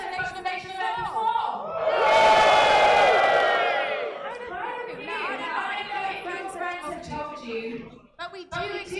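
An audience at a chessboxing event erupts in a loud cheer and whooping that swells and then fades into crowd chatter, with an announcer talking over it afterward.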